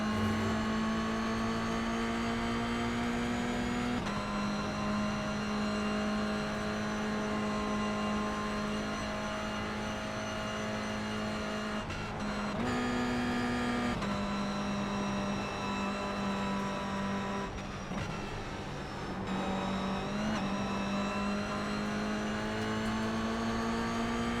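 Race car engine in the iRacing sim on a rookie race, a loud steady high drone held through corners with brief dips and lifts as the driver eases off and accelerates again, no talking.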